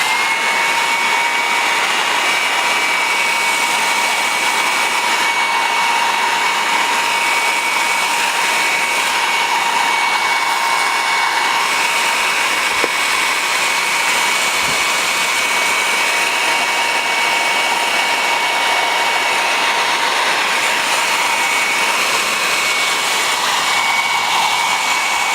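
A heat gun blows in a loud, steady, unbroken hiss with a constant whine while it heats the adhesive behind a car badge.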